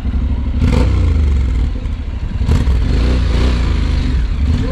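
A motorcycle pulls away and rides off at Saintes-Maries-de-la-Mer, its engine revving loud and broadband through two surges, over steady wind noise with no talking.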